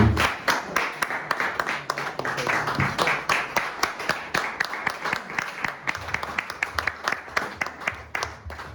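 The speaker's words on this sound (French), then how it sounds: "Si on peut se mettre debout en acclamant le Seigneur" Church congregation on its feet applauding the Lord, brisk rhythmic clapping from many hands filling the room, steady and moderately near, with faint voices under it.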